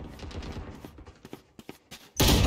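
A quick series of sharp pistol shots in the video game Valorant pops under a busy game soundscape, ending in a louder burst of noisy blasts.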